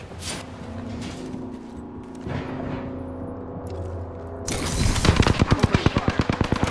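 Gunfire in a battle royale shooter game: ambient game sounds first, then a loud rapid burst of automatic fire, close and evenly spaced in the last seconds.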